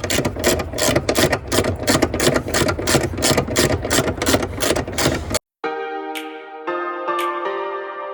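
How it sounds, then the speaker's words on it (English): A power impact wrench working on a 2011 Infiniti G25 during an alternator install: a loud, rapid, steady mechanical hammering for about five seconds, then a sudden cut and a brief quiet before other clanking and humming sounds. "Get my fast wrench going here."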